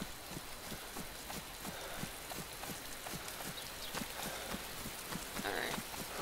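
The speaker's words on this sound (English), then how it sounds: "Damn it, rain!" Steady rain hisses down in the survival video game DayZ, a faint, even wash of falling drops with a soft repeating patter underneath, no voices.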